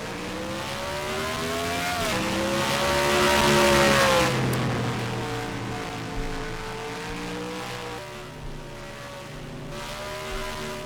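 A single race car on a qualifying lap passes with rising and falling engine pitch, swelling loud as it nears then fading, with gear shifts audible and a second pass later.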